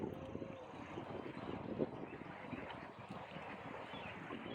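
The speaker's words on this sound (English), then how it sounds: "so it's actually got a pretty quiet exhaust on this boat" Exhaust from a 1996 Rosborough 246 deep-keel boat burbles quietly and steadily, a low rough rumble mixed with wind noise across the microphone, with no one speaking.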